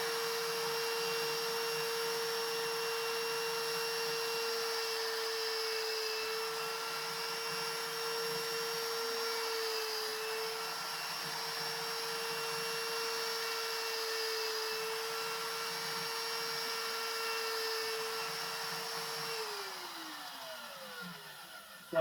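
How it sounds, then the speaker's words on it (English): A power drill boring holes into a wooden Shaker box: a steady, sustained motor whine running without a break, then winding down at the end, with no talking. "So I've simply drilled right in there."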